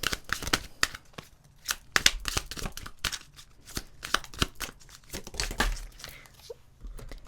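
Tarot cards are shuffled and pulled from the deck in quick, crisp riffles and flicks, with close papery snaps repeating irregularly over several seconds.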